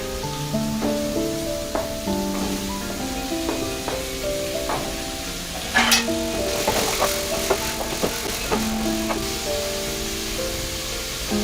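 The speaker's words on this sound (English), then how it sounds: "after a few minutes I'm adding some green capsicum and some carrots." Green capsicum and carrots sizzle with onions in a frying pan. A steady close hiss runs throughout, with scattered clinks and stirring scrapes from the pan.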